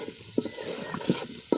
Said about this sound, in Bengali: দেখো আলুর সঙ্গে মশলাগুলো কিভাবে কষিয়ে নিচ্ছি।